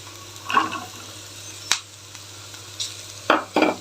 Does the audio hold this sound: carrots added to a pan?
yes